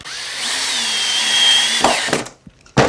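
A power drill whirs steadily at rising pitch while driving a screw into a wooden solar lantern cover, then stops abruptly, followed by a short clack and a final brief burst of noise.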